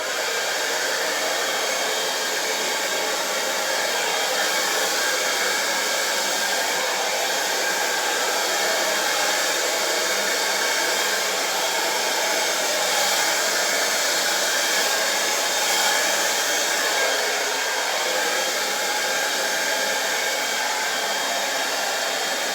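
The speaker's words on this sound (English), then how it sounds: "I'm going to put it on the low setting, but I'm going to press the cool button on my hairdryer" A hair dryer running on its low setting with the cool button held, giving a steady, unbroken whoosh of airflow with no talking, set near an acrylic fluid-art canvas.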